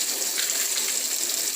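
Cold water runs steadily from a tap for rinsing, a continuous even hiss and gush with no break, fairly close and alone.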